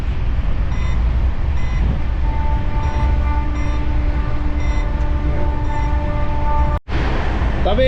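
Aboard the Amrit Bharat Express on its first Sealdah to Benaras run, nearing 130 km/h, a steady loud rumble of wheels and rushing air fills the carriage, with faint tonal beeps, a brief dropout near the end, and a voice speaking over it.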